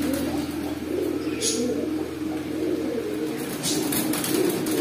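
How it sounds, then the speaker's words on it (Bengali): Pigeons of an old-breed black Babra kind coo softly, their low throaty calls repeating over a constant background hum, with faint speech at moments. "এখানে এক পিস কবুতর আছে,"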